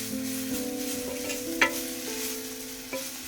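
Chorichanam (stinging nettle) thoran being stirred in a hot clay pan, a steady soft sizzle with scraping stir strokes and a few sharper clanks of the spoon or lid, close and alone with no talk.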